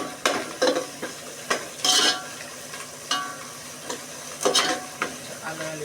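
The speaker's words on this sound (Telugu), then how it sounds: "ఇప్పుడు కొంచెం పసుపు ఫ్రెండ్స్ వేసుకొని ఒక్కసారి కలిపి కొంచెం అల్లం వెల్లుల్లి పేస్ట్ మగ్గనియాలి" Turmeric and ginger-garlic paste frying in a pan for a mutton curry, with repeated stirring scrapes and clinks of a spoon against the pan over a steady close sizzle, no talking.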